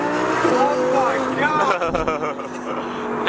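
Audi R8 with a fault, two cylinders dead and firing on only eight, droning loud and steady while driving, its engine tone rising and shifting with faint tire noise, with a voice talking over it.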